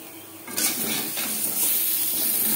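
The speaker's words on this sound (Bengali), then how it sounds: "আলু হালকা করে ভাজা হয়ে গেছে, এর থেকে বেশি ভাজবার প্রয়োজন নেই।" Potatoes frying in a pan, with a steady, close sizzling hiss that starts suddenly after a brief quieter moment and then holds.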